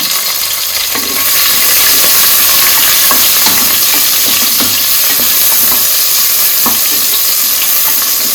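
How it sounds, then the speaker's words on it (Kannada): Onions shallow fry in a pan for a spinach palak pulao, a loud, constant sizzle that swells after the first second, with scattered taps and scrapes from stirring heard up close and no voices. "ಈಗ ಈರುಳ್ಳಿ ಹಾಕ್ತಾ ಇದ್ದೀನಿ. ಇದನ್ನ ಒಂದ್ಸತಿ ಶಾಲೋ ಫ್ರೈ ಮಾಡ್ಕೊಳ್ಳೋಣ."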